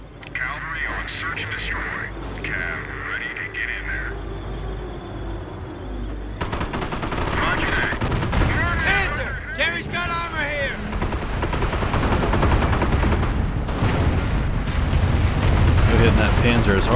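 Battle gunfire in the Company of Heroes game during the Normandy campaign's Hill 192 mission: steady bursts and shots crackle under frequent game voice lines and music, with the din growing denser and louder toward the end.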